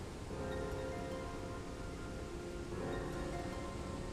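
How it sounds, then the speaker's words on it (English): Steady, even rain hiss in the video game Final Fantasy XIV fills the whole stretch with no voices, a constant soft wash of falling water at moderate level. "It's raining"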